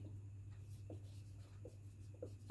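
Pen writing an answer on paper, soft scratchy strokes in short bursts under a steady low hum, close and quiet, with no one talking.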